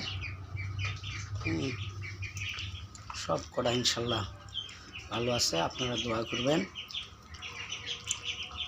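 Ducklings about 13 to 14 days old chirp in repeated high, thin peeps scattered through the clip, mixed in with a person talking nearby.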